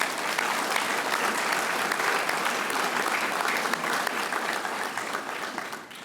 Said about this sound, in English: Please join me in a round of applause for each of our graduates